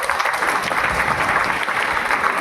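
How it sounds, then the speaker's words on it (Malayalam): An audience applauds Kudumbashree workers at a community hall inauguration, a dense, loud burst of clapping close by that fills the whole moment without a break. "അപ്പോൾ കുടുംബശ്രീക്കാരുടെ ഒരു നല്ല കയ്യടി നല്ല പ്രവർത്തനത്തിന് കൊടുക്കണം എന്ന് ഞാൻ അഭ്യർത്ഥിക്കുകയാണ്"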